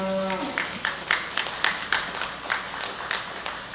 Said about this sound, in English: so really big round of applause for him